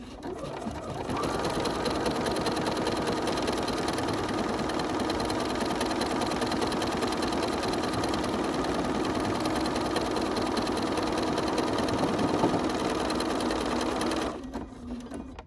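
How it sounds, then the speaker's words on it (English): A sewing machine works through a decorative stitch combination on a stitched postcard, humming in one continuous, even run for about fourteen seconds before stopping on its own. "So all we're going to do now is just stitch it, and it's going to stop automatically."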